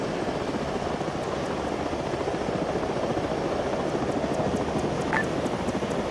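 Helicopter in the military video game Arma 3, a constant dense rotor thrum and engine whine holding steady and fairly loud throughout, with a faint radio beep near the end.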